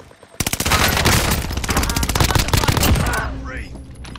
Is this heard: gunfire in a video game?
yes